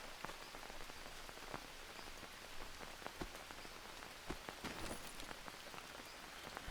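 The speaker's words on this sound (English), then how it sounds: "It won't stop raining" Rain falling in the jungle survival video game Green Hell, a steady faint patter of drops on surfaces with scattered sharper drips, continuous and quiet, no talking.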